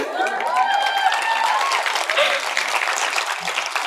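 A convocation audience applauds steadily, a full hall of many hands clapping in a continuous, even wash for several seconds, with a few whistles or cheers riding above.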